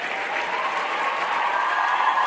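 An audience at a Super 100 Day event claps loudly to welcome its guests, a dense, continuous wash of applause that holds steady throughout.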